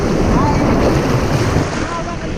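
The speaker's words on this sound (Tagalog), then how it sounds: "Malakas alon pero mahina lang yung wave, no?" Strong ocean waves roll in at Abagatanen Beach, a loud, continuous wash of surf with heavy wind rumble across the microphone and no clear speech.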